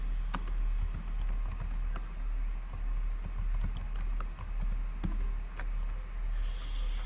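Fairly quiet keystrokes tapped on a computer keyboard in irregular bursts while entering text into a file, with a steady low hum underneath.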